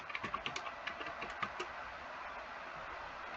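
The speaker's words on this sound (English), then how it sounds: "you could type the number and then type install" Quick bursts of computer keyboard typing, light clicking keystrokes clustered in the first second and a half, fairly faint, then fading into quiet background hiss.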